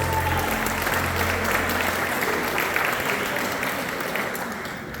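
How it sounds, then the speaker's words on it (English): Wedding guests at a reception in the McNay Museum applaud the bride and her father before their father-daughter dance, a sustained crowd of clapping hands with faint voices beneath, easing slightly toward the end. "put your hands together for our bride and father of the bride"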